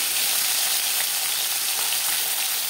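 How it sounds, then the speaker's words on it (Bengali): Bele fish, a soft fish, frying crisp in oil in a pan, a steady close hiss and crackle of sizzling that holds even throughout with no voices. "তাই আমি এখানে কড়া করে ভাজছি,"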